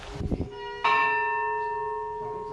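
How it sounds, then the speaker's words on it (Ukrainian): A single loud strike of a church bell at an old Greek Catholic monastery near Lviv rings out after a few short knocks, its clear tone slowly decaying over two seconds. "Тут висить відлитий за його кошти дзвін"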